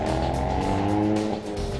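A 2019 Hyundai Veloster N pulls out onto the Thunderhill race circuit, its engine droning loud and steady from close by for a couple of seconds with no talk over it.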